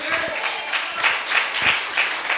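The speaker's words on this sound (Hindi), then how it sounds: "जोर से ताली बजाइए, जोर से एक साथ" A church congregation clapping together at a fairly loud level, with rhythmic bursts of claps about twice per second and a voice briefly mixed in.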